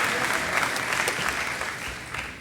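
A high school graduation crowd breaks into steady applause, dense clapping from many hands with a few sharper claps standing out, heard close and loud throughout and fading slightly toward the end.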